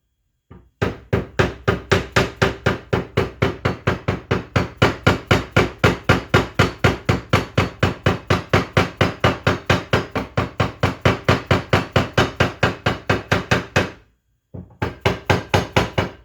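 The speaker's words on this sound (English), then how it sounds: "Grab the dead blow hammer," Rapid, steady dead blow hammer blows on a metal socket on a Camaro part, dozens of sharp strikes in a fast even rhythm, with a brief pause near the end before the hits resume.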